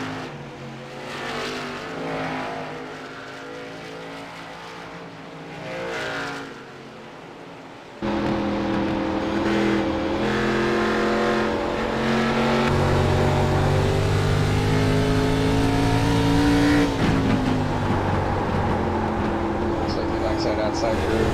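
Race cars lap the Lucas Oil Raceway oval, engines droning steadily, then growing much louder and denser as the pack roars closer, with sustained high revving under a voice talking.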